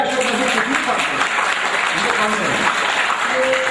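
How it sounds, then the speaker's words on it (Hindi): An audience at a stand-up comedy and poetry show breaks into clapping, a broad steady patter heard beneath someone speaking Hindi. "जोरदार ताली हो जाए।"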